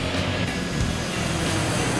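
A jet aircraft engine roars as a loud, steady broadband rush with a faint whine running through it, unbroken for the whole two seconds.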